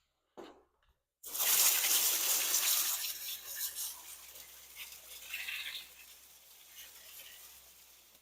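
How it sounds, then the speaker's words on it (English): Water from a hose rinsing the exterior of an E350 high-top van, a loud steady hiss and spray that starts abruptly after a short splash, then varies and softens as the stream moves across the body. "better get that rinsed off"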